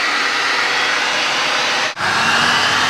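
A heat gun blows steadily and loudly at close range while drying fresh plaster in a repaired wall hole, a constant airy roar that briefly cuts out and then resumes.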